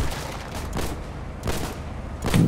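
Pistol shots ring out in the Foxhole war video game, several distinct cracks spread over a couple of seconds against a rumbling battle background.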